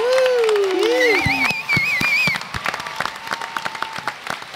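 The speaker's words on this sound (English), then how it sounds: "Give him a round of applause." A crowd at a San Diego Comic Con 2015 Teenage Mutant Ninja Turtles panel cheers with high whooping voices, then breaks into scattered, uneven clapping that thins out toward the end.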